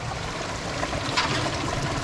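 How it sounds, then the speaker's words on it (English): A small creek trickling into a wilderness river: a steady, soft babble of running water, close and continuous, with no other sounds. "A little creek here running in."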